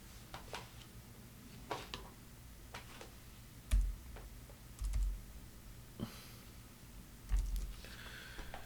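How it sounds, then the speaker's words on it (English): Computer keyboard typing, sparse clicks and taps close by in short irregular bursts with soft thumps between, quiet and with no voices. "I'm typing this in."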